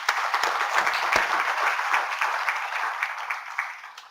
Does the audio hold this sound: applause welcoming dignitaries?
yes